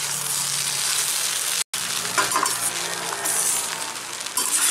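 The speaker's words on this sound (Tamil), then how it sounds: "நல்லா கிளறி விட்டுக்கலாம்." Pepper egg rice being stirred in a frying pan, with a steady close sizzle and scraping clinks of a spoon against the pan, briefly cut by a short gap.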